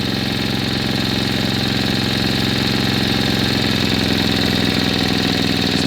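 A refurbished vintage Tecumseh 5.5hp engine on a Doodle Bug retro mini-bike idles steadily and loudly up close, a constant even chugging hum with no pauses.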